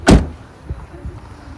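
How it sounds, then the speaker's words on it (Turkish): A car door is pulled shut with one loud, close, solid thump at the start, followed by a couple of faint knocks and interior rustles in a quiet car. "Şu tarafı Kapıyı kapatalım."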